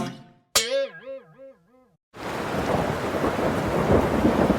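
A thunderstorm sound effect for a Hindi comic story: a warbling electronic tone sweeps and fades, then heavy rain bursts in and keeps pouring, a dense, steady roar to the end.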